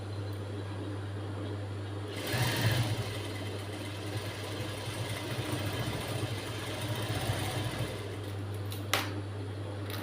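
A sewing machine stitches a blouse sleeve, its motor giving a steady low hum throughout, with a longer stretch of busier whirring stitching in the middle and a faint click near the end.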